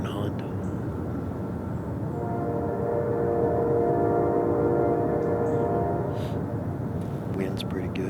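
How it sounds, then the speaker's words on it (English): A train passes nearby in an outdoor urban hunting spot, a steady loud rumble with a sustained horn-like tone swelling in the middle and fading, under continuous wind noise. "I know you can hear that train."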